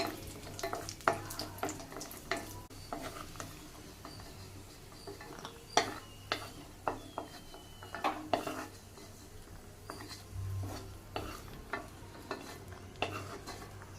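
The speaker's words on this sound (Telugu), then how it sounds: "కిస్మిస్ ఇవన్నీ లైట్ బ్రౌన్ కలర్ వచ్చేవరకు ఫ్రై చేసుకుందాం" Raisins fry in a pan until light brown, a soft sizzle running beneath repeated scraping and clinking of a utensil against the metal as they are stirred.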